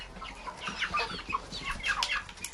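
A young rooster among mixed-breed chickens clucks in a series of soft, quick chirping calls, fairly faint and close, with a continuous low background hum.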